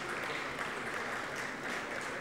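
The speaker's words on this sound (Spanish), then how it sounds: "Un aplauso, por favor, para Colliers su aniversario." Audience applause at the EXNI 2023 business conference in Mexico, marking Colliers' 30th anniversary: steady, dense clapping from a crowd filling the hall at a moderate level, with no voices standing out above it.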